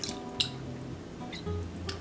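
Eight ounces of unsweetened plain organic soy milk is poured for a dairy-free pumpkin pie filling, with faint, soft liquid trickles and drips over a low background hum.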